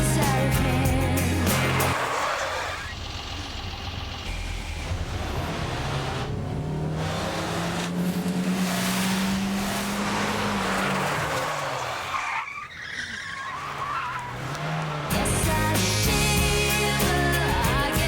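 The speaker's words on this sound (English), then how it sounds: "That was Natalie being driven home by Vic Reeves" A car revs hard and drives fast with loud, sustained tire squeals and skidding, the engine pitch rising and falling, close and continuous throughout.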